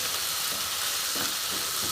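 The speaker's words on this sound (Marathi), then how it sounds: "छान असं मिक्स करून घेते" Onion, tomato and coriander frying in a pan as they are stirred, a continuous close hiss and sizzle with soft scraping of the spoon, with no talking.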